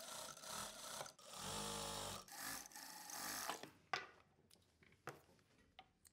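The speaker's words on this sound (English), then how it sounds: "Sew from this intersection point to the other intersection point." A sewing machine stitching a half-inch seam in churidar pants fabric, two bursts of steady motor whirring that then give way to quiet handling and light clicks.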